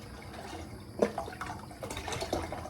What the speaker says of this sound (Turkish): 1 litre kadar sütümü döktüm.